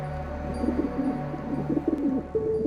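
Soft, repeated pigeon coos overlap in a steady murmur, several birds close by on a rooftop with low throaty calls throughout.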